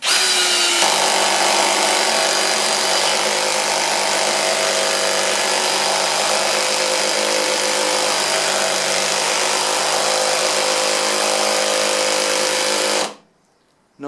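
ToolPRO 18V hammer drill on its driving setting spinning a screw into a drilled hole, a steady high whine held for about thirteen seconds before cutting off abruptly.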